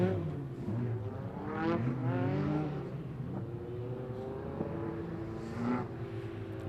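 Hot rod race cars at a stock car meeting, engines rising and falling in pitch as they pass and accelerate, heard from a distance with the steady hum of the circuit beneath.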